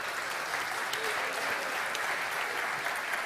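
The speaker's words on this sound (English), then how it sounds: "let's give that a round of applause" A conference audience at a local government cultural plenary gives a round of applause after an arts presentation, a dense, continuous wash of clapping that holds at an even level from start to finish.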